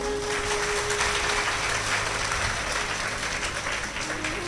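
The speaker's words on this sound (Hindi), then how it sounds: "एक बार श्री हनुमान सेवा ट्रस्ट के लिए जोरदार तालियां हो जाए।" Audience applause at a Bhagwat Katha religious gathering, a steady, broad wash of clapping from a large crowd that continues evenly throughout, slightly distant and blended with room noise and a faint hum.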